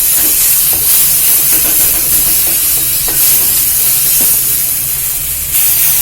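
Masala sautéing in oil, a loud, close, hissing sizzle that runs steadily throughout with a few faint stirring scrapes.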